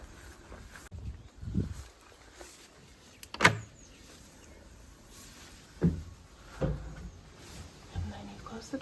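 A wooden door on a bird hide bumps shut and small viewing shutters clatter open, a handful of close, distinct knocks and scrapes spread over several seconds against quiet outdoor background.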